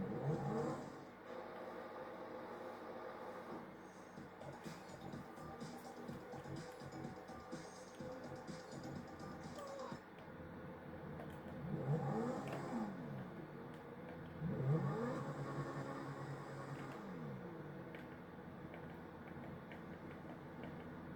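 Car engine revving in Grand Theft Auto V, an uncustomised vehicle found as-is, with a steady engine drone over background music and two louder rev surges near the middle and end.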